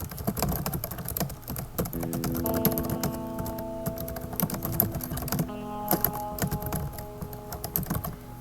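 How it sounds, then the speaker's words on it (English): Fingers type steadily on a computer keyboard, a close, irregular run of crisp clicks with short pauses, over a faint tonal hum and without any talk. "Let me go ahead and type in some text here."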